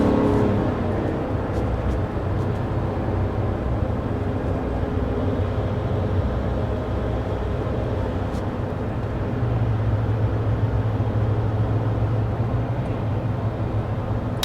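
Inside the cabin of a 2024 Chevy Silverado 1500 High Country cruising at 55 mph, a steady low road and engine rumble persists evenly with faint wind hiss and no talking.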